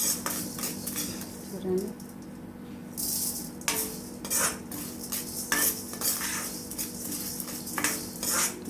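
Spices roast in a pan with about half a spoon of oil for a curry leaf and drumstick leaf powder. A metal spoon stirs and scrapes in irregular strokes over a faint sizzle, with a brief voice.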